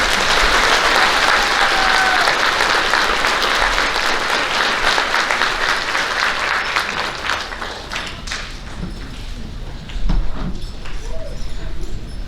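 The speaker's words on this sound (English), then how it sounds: "Let's give these students a big round of applause for all of their work." A big round of applause for students at an elementary school awards event, dense clapping from a crowd, loud and sustained, thinning and tapering off over the last few seconds.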